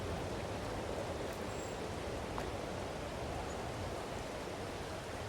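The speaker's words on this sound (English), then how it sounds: "So it's been raining for a couple of days here" Rain in the video game Farming Simulator 22 falls as a steady, even hiss with no pauses or voices, soft and constant throughout.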